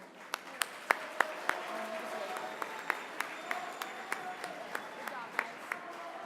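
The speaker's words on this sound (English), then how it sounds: "Let's give one more big round of applause for our Farm Bureau contestants." Audience applause for Farm Bureau contestants at the Montana FFA State Convention, a sustained moderate crowd clapping with sharp individual claps standing out, steady throughout.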